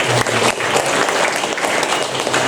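An audience at a university orientation event in Karimun claps steadily, a dense wash of applause that carries evenly through the moment with no pause.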